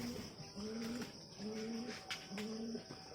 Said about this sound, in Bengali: এই যে আমাদের কবুতর,